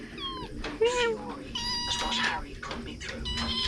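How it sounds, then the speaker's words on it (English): A tiny cat meows repeatedly in short, high, wavering calls, close by, with people's voices talking alongside and overlapping the cries. "And a tiny cat."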